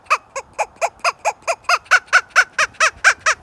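A hand-operated squirrel call worked by moving the hands, shown in a first-grade sound lesson, gives about fourteen evenly spaced, nasal, honking chirps in a steady loud rhythm with no talking.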